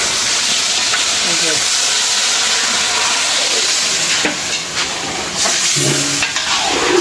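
Water hits a hot pan of frying potatoes, onions and chillies in a large kitchen cooking korma and pulao, setting off a loud hissing, bubbling sizzle, with voices talking over the later part.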